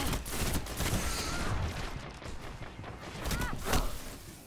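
Video game gunfire, repeated bursts of rapid shots and thuds in a busy firefight, rising and falling in loudness with a heavy volley near the end.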